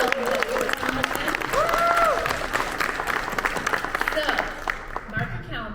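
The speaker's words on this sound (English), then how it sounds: "I hope everyone will join me in giving a big round of applause to our candidates" Audience applause at a city candidates' town hall for the candidates and moderators, with dense clapping and a scattering of cheers, loud and sustained, and some whistles and voices mixed in.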